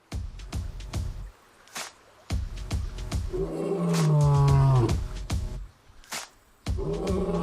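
A male lion in Africa roars loudly and close by, building through deep, rough, drawn-out bellows, then breaking into a series of shorter grunting roars with brief pauses between them.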